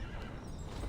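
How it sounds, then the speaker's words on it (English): Horses neighing and stamping in the Reverse 1999 video game, a short dense burst of whinnies and hoof clatter under a steady loud roar of noise, close and continuous. "joined by the thunder of horses stamping the ground"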